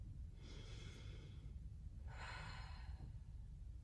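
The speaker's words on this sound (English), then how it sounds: "Deep breathing." Slow deep breaths taken during a gentle yoga class, two long airy exhale-like swells about a second apart over a steady low room hum, close and soft with no talking.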